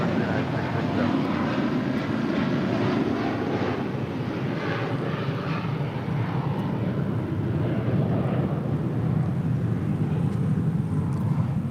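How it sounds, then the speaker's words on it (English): A United Airlines Boeing 757-200 jet airliner taking off from LAX, bound for Newark, giving a loud continuous engine roar that holds steady throughout. "That is United Airlines 667 departing to Newark on a 757-200."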